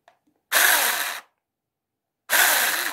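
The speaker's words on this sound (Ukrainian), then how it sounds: "Працює на акумуляторі наша пилочка." A battery-powered lithium 6-inch mini chainsaw revs in two loud bursts, each close and steady with a high buzzing whine, separated by a second of silence, with no talk.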